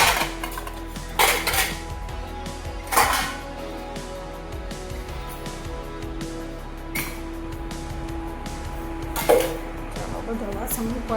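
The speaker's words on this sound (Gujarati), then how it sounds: "આ બધા વાસણ ત્યાં આપણે ચોકડીમાં મૂકી આવશું" Metal utensils and dishes left after breakfast clatter and clink as they are gathered and set down, a few louder clanks standing out over steady background noise.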